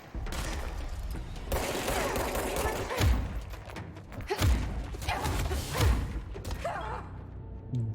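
Gunfire rattles through a fight in the video game Control, several bursts with deep thumping impacts over a steady noisy background at moderate level.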